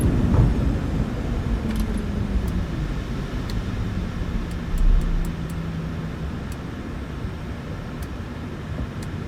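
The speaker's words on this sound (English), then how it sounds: "Reverse thrust. 70 knots. Manual braking." Airliner rollout in a flight simulator game with reverse thrust and manual braking, a steady low engine roar that gradually winds down, with faint clicks and a brief thump midway, no voices.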